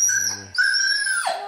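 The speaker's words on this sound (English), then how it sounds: "That's a dog being rescued." A dog whimpers and lets out a drawn-out, high howl-like whine, rising then sliding down at the end, close and fairly loud with no talk over it.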